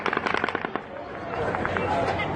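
Gunfire from the Las Vegas mass shooting, heard as a rapid burst of sharp cracking shots followed by a rougher, sustained noisy wash, with voices and crowd sound mixed in.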